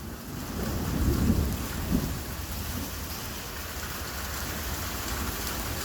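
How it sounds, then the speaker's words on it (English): Hail falls on and around a car being cleaned, a dense steady patter that surges briefly near the start and then settles into a continuous close drumming with no voices. "We've got hail."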